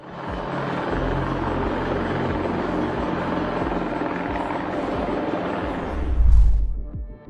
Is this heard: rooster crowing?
no